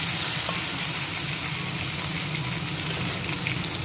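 Potatoes fry in mustard oil, a dense, even sizzle held close and steady for a few seconds with no voices over it.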